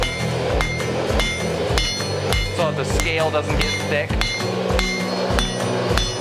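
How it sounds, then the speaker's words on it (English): Hammer striking hot steel while hand forging a medieval spike axe: loud, close, ringing blows in a fairly regular rhythm, about two per second, with someone talking between and under the strikes. "hammer on both sides every time"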